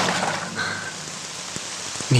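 Steady rain falls as a dense, even hiss in the background, continuous and moderately loud throughout.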